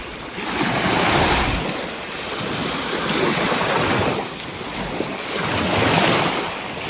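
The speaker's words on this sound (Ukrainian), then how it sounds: "погодка потихеньку налагоджується, виходить сонечко, хвилі, як на морі" Waves wash on the Kremenchuk reservoir of the Dnipro near a riverside campsite, a continuous surging roar that swells and recedes in broad pulses, with gusty wind buffeting the microphone.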